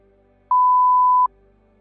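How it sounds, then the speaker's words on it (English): A single steady electronic timer beep from a multiplication tables check, sounding once for under a second, clean and tonal over a quiet background, warning that a question's time is nearly up. "A beep will sound 2 seconds before the end of each question, then a different beep at the end of each question."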